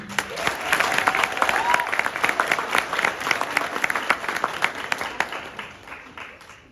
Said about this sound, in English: Let's give one last round of applause to our Frosh Off team.